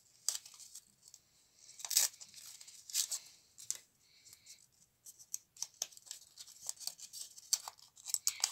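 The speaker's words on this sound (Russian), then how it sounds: "Открываем пакетик." A small plastic packet holding a cosmetic sticker is torn and crinkled open up close, with bursts of rustling and tearing in irregular spurts, no talking.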